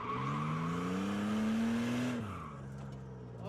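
A car engine revs rising in pitch as it accelerates toward a cone for a handbrake turn, then the note drops abruptly and settles into a lower, steadier drone.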